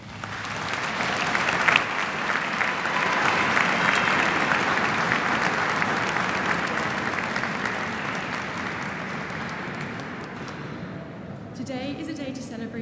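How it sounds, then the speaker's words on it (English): Graduates give a long round of applause inside a cathedral at a graduation ceremony, dense clapping swelling early and then thinning gradually, with some voices audible as it fades near the end. "please can I invite all of our graduates to give them a massive round of applause"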